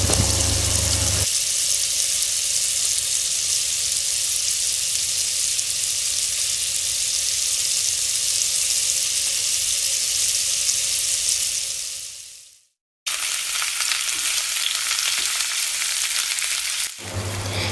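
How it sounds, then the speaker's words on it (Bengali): Chicken kebabs frying in a pan give a loud, steady, close sizzle that cuts out briefly and then resumes just as strongly. "আর আজকে আমি আপনাদেরকে দেখাবো কাবাবটা ভেজে।"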